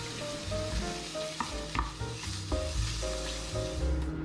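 Shrimp frying in a hot pan, a steady close sizzle with stirring and scraping clatter throughout, no voices.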